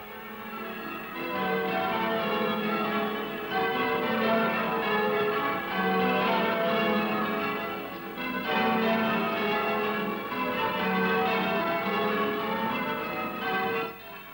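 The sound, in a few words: church bells ringing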